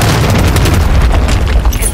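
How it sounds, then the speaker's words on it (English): A cruise missile explosion in Call of Duty Modern Warfare 3 lands as a loud, sustained low rumbling boom that fills the whole two seconds, with dense crackling debris layered over the heavy bass. "Friendly cruise missile deployed."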